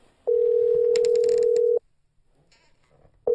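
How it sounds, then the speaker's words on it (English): Telephone dial tone as a call is placed: a steady pure tone holds for about one and a half seconds, stops, then after a short quiet gap with faint clicks, sounds again. "So Obie made a phone call."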